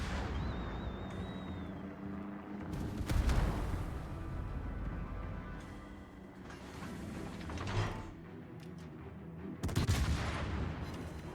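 Naval guns fire in World of Warships from the Tier 10 cruiser Hindenburg. Three heavy booming salvos ring out at spaced intervals amid mechanical creaks and ambient rumble.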